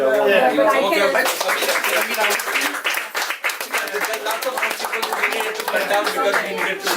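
An audience at a film screening applauds the director and co-producer, a steady crowd of clapping hands rising and holding at moderate loudness, with voices talking over it.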